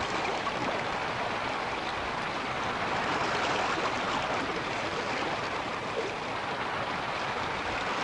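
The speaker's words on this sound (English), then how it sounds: "Let's raft us a river." Rushing river water while rafting in The Oregon Trail computer game, a steady broadband wash of flowing, splashing water at moderate level, continuous with no voices.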